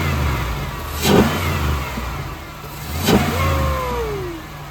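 Chevrolet Impala SS engine fitted with a K&N cold air intake, blipped twice in short throttle taps a couple of seconds apart over a steady idle, close by with no talk.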